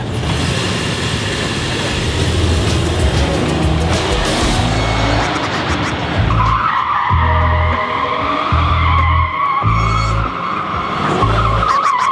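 A car accelerating hard from a standstill at the lights, tires skidding and squealing loudly over a roaring engine, with the squeal holding steady and strong through the second half.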